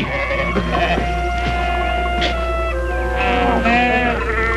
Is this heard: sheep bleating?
yes